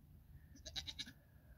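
A goat bleats on a farm, a short wavering call of a few pulses, fairly close over a quiet outdoor background.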